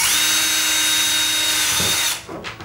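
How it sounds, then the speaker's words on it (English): A power drill bores holes into a terrain piece for a tabletop battlefield scene, running loud and steady for about two seconds before stopping, with a brief scrape of the bit slipping across the surface. "he says while the drill bit slides everywhere."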